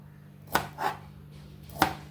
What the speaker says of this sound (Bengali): কুদরিগুলো ভালো করে ধুয়ে নিয়েছি এবার কেটে নেব দুদিকটা একটু করে কেটে দিচ্ছি